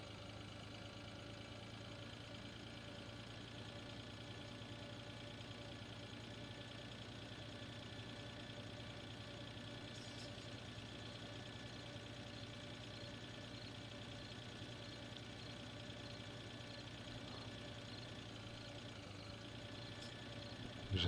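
A tractor engine in the Farming Simulator 2013 video game drones at a steady, even idle-like hum, faint and unbroken throughout.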